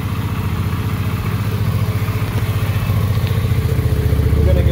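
A stock 2006 Kawasaki Drifter 800 cruiser idles steadily up close, its mid-sized engine putting out an even, rapid low thumping that grows slightly louder toward the end, fairly quiet and without speech.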